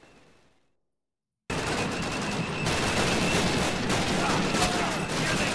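Dense gunfire from the video game Call of Duty: United Offensive, a sustained roar of rapid shots and bursts that starts abruptly after a near-silent moment and stays loud and continuous.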